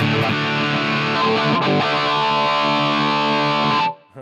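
A heavily distorted electric guitar chord through a Sonic distortion pedal rings out loud and sustained, with a brief re-strike partway, then cuts off abruptly.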